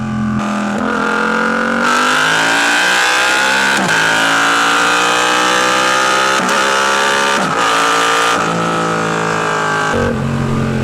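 A Yamaha R7 sport motorcycle engine revving hard through rising acceleration pulls, loud and close, with brief dips at gear changes and no talk over it.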